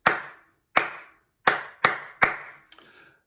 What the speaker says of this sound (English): I'm just going to clap my hands